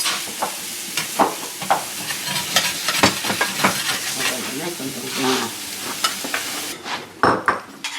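Rice sautéed in a pan before liquid is added, with steady frying sizzle and frequent stirring scrapes close by, and brief voices in the background.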